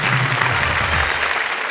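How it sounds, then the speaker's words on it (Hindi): Dense, loud audience applause fills a Hindi comedy poetry recital hall, a continuous close wash of clapping with no voices over it. "तालियां, मैं कविता सुना रहा हूं।"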